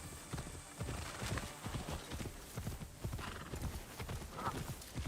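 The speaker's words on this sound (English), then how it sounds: "On a horse, let's go." A horse gallops in the samurai action game Assassin's Creed Shadows, its hooves drumming in a fast continuous clip-clop rhythm, loud and close throughout.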